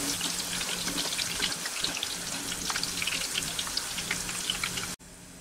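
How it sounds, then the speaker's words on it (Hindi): Raw banana chips frying in hot oil until crisp, a dense crackling sizzle like fine rain that runs steadily and then cuts off abruptly near the end; no speech. "हम इसे क्रिस्पी होने तक कुक करना है।"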